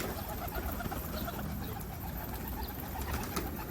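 Faint, low cooing from a group of pet pigeons runs continuously against a soft, noisy outdoor background, with no voices present.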